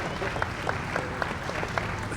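A crowd applauds at a Damen Green Line station ribbon cutting, a steady dense patter of many hands with sharper individual claps poking through and voices murmuring underneath.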